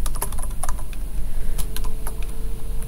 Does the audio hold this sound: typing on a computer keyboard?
yes